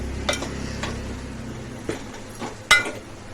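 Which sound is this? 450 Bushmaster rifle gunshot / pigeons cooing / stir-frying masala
stir-frying masala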